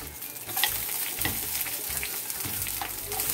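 Onion half-moons frying in a pot for a Veracruz-style fish and shrimp broth, a steady close sizzle with occasional stirring scrapes throughout.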